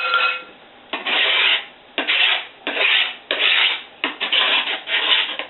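A knife scrapes avocado flesh out of its skin in repeated rough rasping strokes, about six close, loud scrapes separated by brief pauses.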